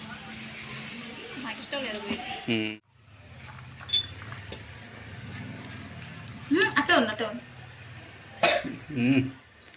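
A few short, sharp coughs break through a noisy room, close by, with clinking and rustling in the background.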